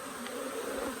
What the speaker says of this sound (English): my word, there's some bees on these